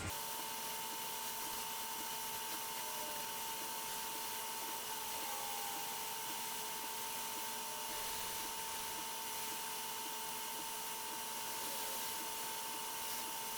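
A hot air rework tool blowing steadily while heating a solder stencil held down on a PS5 South Bridge chip during reballing, a faint, even whoosh with a thin constant whine, close and unchanging throughout.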